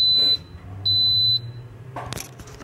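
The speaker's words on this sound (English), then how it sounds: "It'll beep in a sec to let us know it's like good to go." Kitchen appliance timer giving two sharp, loud electronic beeps close by, each about half a second long, followed by quieter clattering handling sounds.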